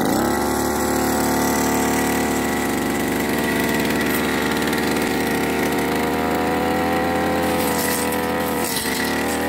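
A brush cutter engine runs steadily and loud throughout, with a buzzing two-stroke drone and slight shifts in pitch, while the operator starts clearing grass to make a harvest path through a garden.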